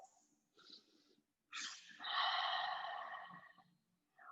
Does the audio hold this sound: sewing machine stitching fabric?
no